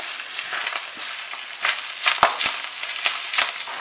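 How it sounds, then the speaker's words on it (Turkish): Minced meat sautéing with onions and peppers in a pan, a steady broadband sizzle with occasional sharper crackles and pops, close and continuous, no voices. "Soğan ve biberlerle kıymayı kavurmaya devam ediyorum."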